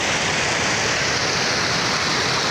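Water from an overflowing lake rushes steadily toward the next lake, flooding over a low causeway bridge, a loud, continuous roar of churning flow with no break or voices.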